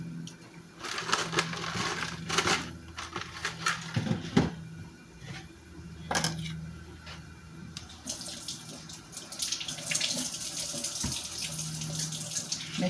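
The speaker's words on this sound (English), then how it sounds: "Make sure to wash your herbs before you tuck them away" Water runs steadily from a kitchen tap as bay leaves and other herbs are rinsed, with splashing bursts and clatter against the sink, continuous and close.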